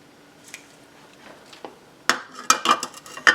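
Sugar, evaporated milk and butter go into a saucepan, heard as a few quiet taps followed by a cluster of sharp metallic clinks and scrapes of a utensil against the pan, close by.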